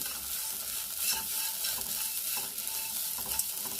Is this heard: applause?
no